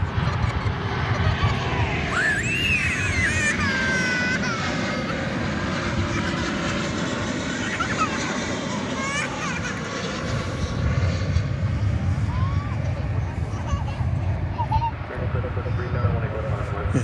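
A jet airplane takes off from a runway at DFW Airport with a loud, sustained engine roar that holds steady throughout. Voices and faint chatter can be heard underneath.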